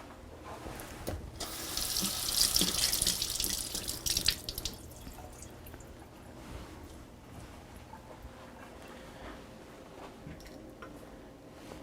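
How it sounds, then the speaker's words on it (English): Tap water runs steadily into a kitchen sink as food is rinsed underneath, a broad splashing hiss that swells louder early on, then settles into a softer flow with occasional drips. "And I'm going to rinse them."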